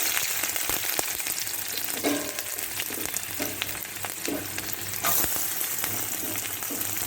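Garlic and chopped onion fry in a pan with a constant crackling sizzle, punctuated by scraping and tapping from stirring, with no talk.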